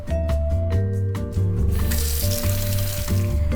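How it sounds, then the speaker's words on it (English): Tap water runs into a kitchen sink for hand washing, a steady hiss that starts partway through under continuous background music. "Maybe I'm gonna wash my hands."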